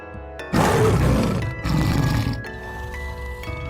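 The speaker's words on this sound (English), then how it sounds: "T for Tiger." A tiger roars loudly in a children's alphabet song, a broad rumbling burst that swells, dips and rises again over steady background music.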